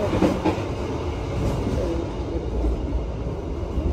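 A train rumbles along near Malang Kota Lama station in Indonesia, a steady low rolling drone with faint rhythmic clatter, heard from inside or close by without talk.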